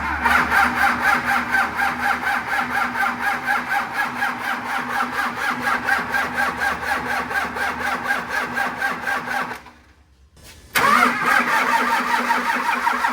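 A P-pump 24V Cummins diesel engine cranks with a steady rhythmic churning for several seconds, stops briefly, then cranks again.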